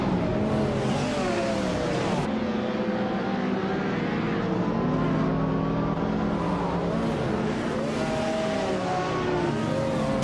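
Racing video game cars, led by a 1995 Ferrari F50, launching at the start at Croft Club A: a dense pack of high-revving engines, rising and shifting in pitch continuously without pause.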